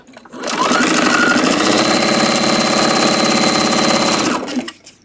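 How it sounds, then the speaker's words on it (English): A sewing machine runs a half-inch seam through quilting fabric, a steady fast mechanical whir with rapid needle chatter that starts, holds loud and even for about four seconds, then stops. "if you take an extra step right now and sew a 1/2 inch seam"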